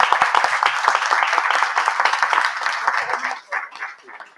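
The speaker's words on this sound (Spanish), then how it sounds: "Un aplauso." Audience applause at a museum event for International Museum Day, dense clapping from a room full of people that swells, then thins out near the end.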